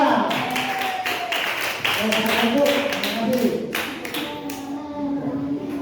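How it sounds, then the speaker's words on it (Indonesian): Students in a classroom clap for a classmate, a steady run of close claps lasting several seconds while voices talk over them and someone says a brief word of thanks. "kasih tepuk tangan untuk nomor 2"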